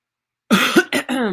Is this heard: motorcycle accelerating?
no